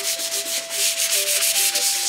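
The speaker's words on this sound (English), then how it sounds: "So now you take your sandpaper." Hand sanding of car hood paint with sandpaper: a steady, close rasping scrub in quick back-and-forth strokes, loud and continuous with no talk.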